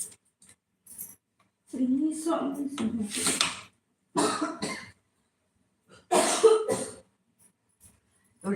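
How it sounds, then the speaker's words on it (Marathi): A person indoors coughs in several harsh bursts, close to the microphone, separated by short silences. "मला खोकला येतो"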